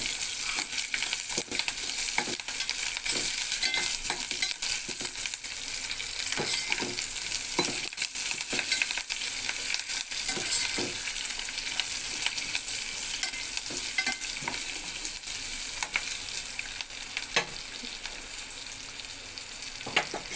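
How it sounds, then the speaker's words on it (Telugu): Onion and green chilli frying in hot oil for a flattened-rice upma, a steady close sizzle with occasional stirring scrapes running throughout, no voices. "ఉల్లిపాయ పచ్చిమిరపకాయ నూనెలో వేసి వేయించుకుందాం"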